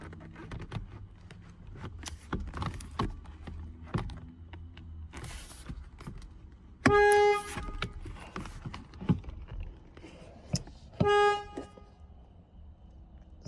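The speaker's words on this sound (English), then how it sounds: "so it's honking, thinking that I'm pushing it, but I'm not" Car horn of a 2012 Ford F150 blaring in two separate loud bursts, the first around a second long and the second shorter, over workshop handling noise and clicks, with no talking.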